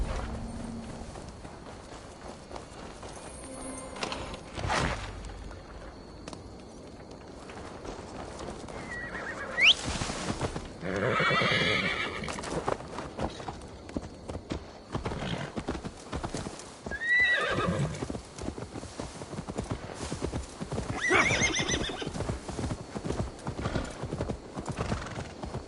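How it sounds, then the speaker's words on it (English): Hooves clip-clop in a rapid, steady gallop in the video game Assassin's Creed Valhalla, with a horse neighing loudly a few times over the running rhythm. "Now to deliver Magni his horse."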